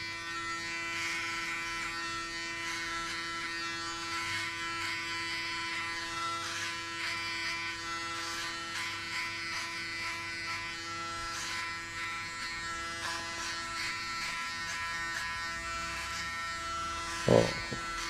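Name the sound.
electric clippers buzzing while shaving hair for a buzzcut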